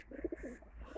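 Pigeons give a short, faint burst of soft cooing at a farmhouse loft, a few quick low notes close together.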